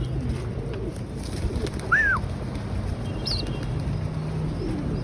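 Pigeons coo near a backyard loft, with a short burst of wing flapping and a brief higher bird call partway through, all over a steady low background hum.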